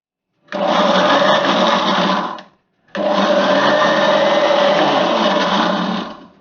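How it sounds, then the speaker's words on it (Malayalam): Kitchen mixer grinder whirring as it grinds cooked papaya with three garlic cloves, running loud in two bursts of roughly two and three seconds, split by a brief pause. "എന്നിട്ട് നമുക്ക് മിക്സി ഓൺ ചെയ്യാം."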